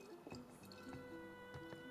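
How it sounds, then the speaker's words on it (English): A faint, bubbly trickle like water filling a container, a Europa Universalis V interface click with soft repeated dripping tones over a steady background hum. "Why did that sound like filling water when I clicked on?"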